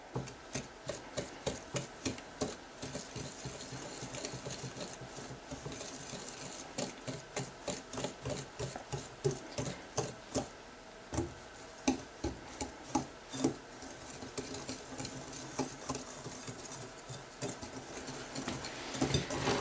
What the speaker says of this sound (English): take your whisk and just start to work everything together